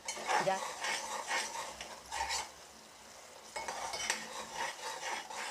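A spoon stirs a mixture of ghee and hot sugar syrup in a pan, making a continuous scraping and clinking with steady repeated strokes and a faint sizzle, close by and without speech.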